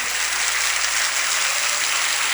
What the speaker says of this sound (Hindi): आपकी तालियों की आवाज गुरुदेव तक पहुंचनी चाहिए